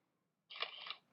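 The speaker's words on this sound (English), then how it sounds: "you'll hear that sound, which sounds like a shutter from a camera" A read-aloud device's camera scans a paper page and gives a single brief shutter-like snap and whirr, lasting about half a second, clear and close in an otherwise quiet room.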